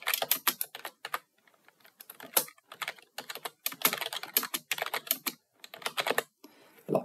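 Fingers type text on a computer keyboard in quick clattering runs of keystrokes with short pauses, close and clear, with no talk.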